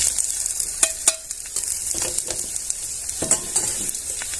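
Spices including red chilli powder, garam masala, turmeric, salt and asafoetida sizzle and scrape as they are stirred into a pan with corn kernels, a steady close frying hiss broken by irregular spoon knocks and clinks, with no talking.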